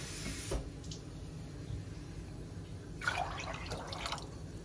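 Water poured from a cup into a pot of stewing peas for Jamaican-style vegan stew peas, a short liquid splash and trickle around the three-second mark over a low steady kitchen hiss.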